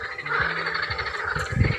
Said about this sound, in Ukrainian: Жаби зараз квакають так, що це капець, друзі.